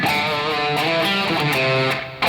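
Electric guitar picking a steady run of melodic notes, clear and close with a lightly distorted tone, playing alone for about two seconds before stopping.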